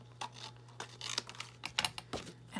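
Scissors cut a paper doll out of its cardboard package, making a quiet run of short crisp snips and rustles at close range with uneven gaps between them.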